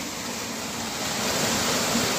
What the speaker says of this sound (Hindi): और ये है झरना